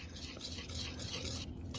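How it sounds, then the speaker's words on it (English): Pancake batter with milk being stirred, a close, steady swirling scrape that runs without pause for just under two seconds, with no talking. "Let's mix the batter."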